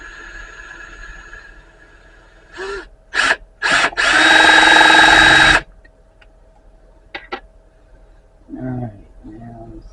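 A handheld power drill fires in short bursts, then runs for a longer whine of about two seconds, with scattered clicks and handling noise before and after.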